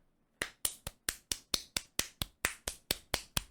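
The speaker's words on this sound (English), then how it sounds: "we heard 5 claps" Sharp, crisp hand claps ring out one after another in a quick, fairly even rhythm, each a distinct close percussive crack with a brief decay, alone against near silence.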